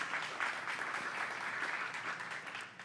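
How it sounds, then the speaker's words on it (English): An audience at a corporate capital markets day event applauds steadily, a dense, even wash of many hands clapping heard at moderate distance, with no voices over it. "So please, a little bit of applause for our team behind the scene."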